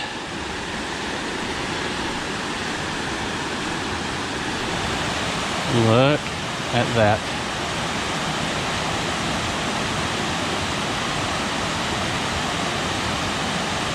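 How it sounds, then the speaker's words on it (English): Steady broadband rushing of a waterfall in Stone Mountain State Park, North Carolina, fills the scene, constant and close, with a brief spoken exclamation partway through. "We found the waterfall."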